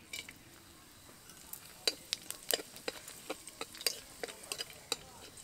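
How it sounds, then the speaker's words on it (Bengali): Cardamom, cloves, cinnamon and a little whole cumin fry in a reduced amount of hilsa-frying oil for pulao tempering, giving a soft background sizzle broken by scattered crisp pops and spoon scrapes against the pan. "তেলের মধ্যে ফোড়ন দেব"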